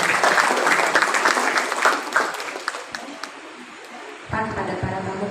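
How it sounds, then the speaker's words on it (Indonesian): Audience applause at a family planning outreach meeting in West Java, Indonesia, a dense wash of clapping from a seated crowd that thins out toward the end before a burst of talk or noise takes over. "Kita beri tepuk tangan dan aplaus untuk kita semua."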